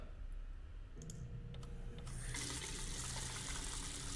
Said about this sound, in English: And now let's turn on the faucet.